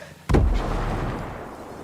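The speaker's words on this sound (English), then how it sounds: "Dropping some bombs." A bomb blast in a video game lands as one sudden heavy boom that rolls on and fades slowly over the following second and a half, loud and with no talk.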